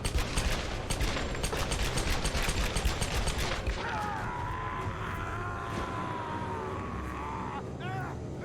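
In the video game Tomb Raider 2013, rapid, loud gunshots crack out in quick bursts for several seconds, then give way to a quieter mechanical whir and lingering ambient noise.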